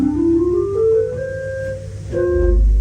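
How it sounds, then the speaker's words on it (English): A 16-foot Bourdon stop on an 1899 J.J. Binns pipe organ plays a slow rising line of sustained, hollow flute-like notes, ending on a deep, rumbling bottom-octave bass note, alone with no talk. "So the first stop on the Great is a 16-foot,"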